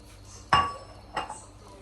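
Spoon stirring kheer, a rice pudding with cream, in a cooking pot, giving two distinct metallic clinks about half a second apart against a quiet background.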